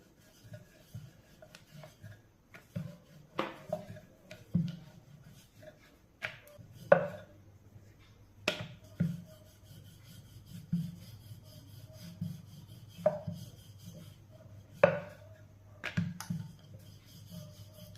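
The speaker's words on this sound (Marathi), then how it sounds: "कोरडे पीठ लावायचे गोळ्याला आणि लाटून घ्यायचं आहे." Spinach puri dough dusted with dry flour is rolled out on a board, giving soft repeated rubbing strokes and light knocks of the rolling pin, close and quiet with no talk.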